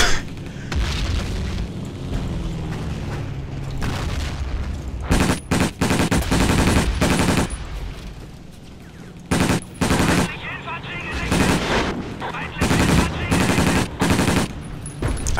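Heavy gunfire and booming explosions in the video game Battlefield 1942, a dense, loud barrage with repeated sharp blasts and machine-gun bursts, mixed with some talking.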